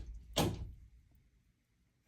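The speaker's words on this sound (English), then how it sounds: "my college son is here, so that's who you hear opening doors over and over right now" An indoor house door is opened in another room with one loud thump and scrape that fades away. A second door sound begins just at the end.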